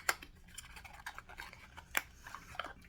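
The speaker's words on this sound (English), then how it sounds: "Good thing I have the scissors on the desk." Quiet snipping of scissors, several short crisp cuts spaced irregularly, close by with no talking.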